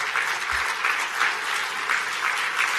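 A ceremony audience at the 2017 PEN Hemingway Awards applauds Karen Hurst with steady, dense clapping that fills the room evenly from start to finish, with no voices above it.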